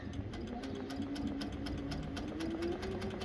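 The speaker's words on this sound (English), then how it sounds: "So let's go over to the sewing machine." Steady mechanical hum of a sewing machine running continuously while stitching a quilt, close and fairly quiet, with no talking.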